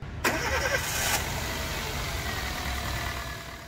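A Chevrolet Spark car with a 1000 cc engine, freshly rebuilt in a workshop, is started: a brief starter crank, then the engine catches and drops to a steady, moderately quiet idle, with no talking.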